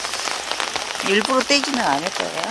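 Steady rain pours outdoors around a rooftop garden with hydrangeas, a constant patter under a voice as she talks.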